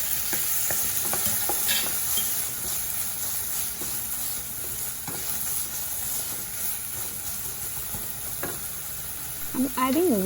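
Chopped tomatoes sizzle in a pan with onion and ginger garlic paste for a South Indian brinjal curry, giving a continuous loud frying hiss broken by scraping stirs of a spoon.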